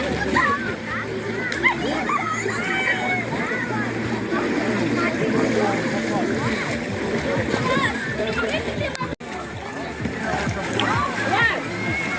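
A child splashes in water at a beach while learning to swim, with continuous choppy splashing and a wash of outdoor water noise, and people talk over the splashes throughout.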